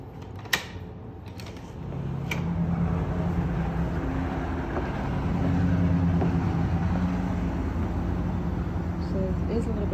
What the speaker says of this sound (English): There's a little bit of traffic noise just because of the location of the unit.